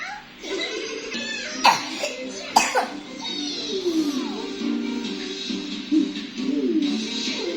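A small child coughing in several sharp, close bursts, with a few breathy, whimpering vocal sounds between the coughs and an adult's voice nearby.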